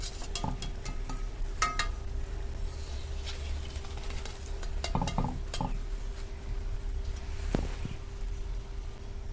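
Puli pitha, rice-flour dumplings, frying crisp in oil, with a low steady bubbling under sharp clinks and scrapes of a utensil against the pan at irregular intervals.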